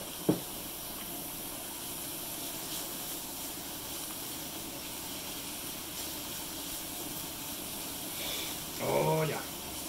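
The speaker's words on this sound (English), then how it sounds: "add the onion and garlic and chili powder flakes" Onion, garlic and chili flakes sizzle in a hot pan, a steady frying hiss running throughout, with a short clink at the start and a brief louder crackle near the end.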